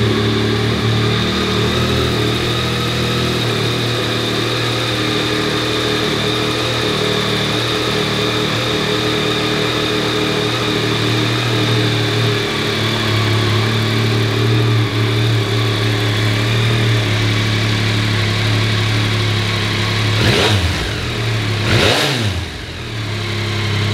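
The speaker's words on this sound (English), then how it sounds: "Let's fire it up." A 2021 Yamaha MT-09 motorcycle engine runs at a steady, loud idle throughout, with a couple of brief revs near the end.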